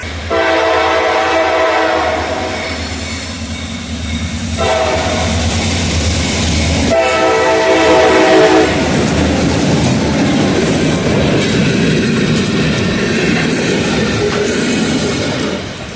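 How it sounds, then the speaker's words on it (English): A local freight train passes close by with its horn blowing in long sustained blasts, the rumble and rattle of wagons rolling steadily underneath throughout. "I hear a train horn."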